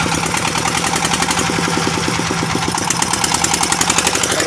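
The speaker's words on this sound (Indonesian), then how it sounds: "Pakai mesin diesel 2 unit guys ini guys" Two diesel engines power a traditional anchovy fishing boat, running with a rapid, even knocking chug, loud and close.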